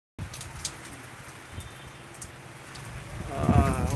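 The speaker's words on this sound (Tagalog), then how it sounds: "palakas na naman ang ulan" Steady typhoon rain hisses in a constant wash that grows slightly heavier toward the end, with a few low knocks and thumps underneath, in Bicol, Philippines.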